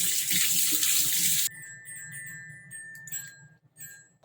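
A tap runs water over seaweed being rinsed in a sink, a broad steady rush for the first second and a half that then cuts off, leaving quiet trickles and faint clinks.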